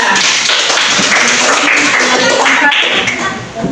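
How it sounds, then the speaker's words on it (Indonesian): A classroom group gets a burst of applause from the audience, a dense, steady patter of many hands clapping up close that holds evenly for several seconds and then tapers slightly. "Beri tepuk tangan yang meriah kepada kelompok ketiga."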